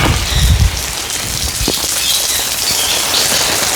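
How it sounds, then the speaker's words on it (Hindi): Water sprays down like rain from an opened shower pipe on a farm, a loud continuous hiss and patter of drops striking the ground, with a brief heavier splash near the start. "अभी तो एकदम एंड तक पूरा लंबा होके बारिश की तरह, शावर की तरह पानी गिर रहा है।"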